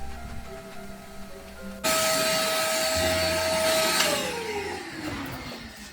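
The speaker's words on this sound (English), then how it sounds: "the best way to do that is just to use a vacuum cleaner, go over your walls" A vacuum cleaner switches on abruptly and drones loudly and steadily as it goes over the walls of a dusty workshop, its pitch sagging slightly near the end.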